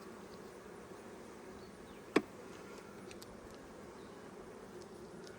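Honey bees hum steadily around an open hive during an inspection, a soft continuous drone with one sharp click partway through.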